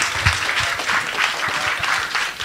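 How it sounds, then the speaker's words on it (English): A dense, steady round of applause from the congregation at the Devi Parashakthi Temple, thanking the volunteers who served dinner prasadam and its sponsors, sustained and fairly loud throughout. "Give a big applause to our Annapurnas."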